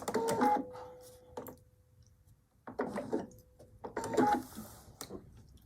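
A sewing machine stitches quilt fabric along a marked line in short, quiet runs, with gaps of near silence between the bursts of whirring and clatter.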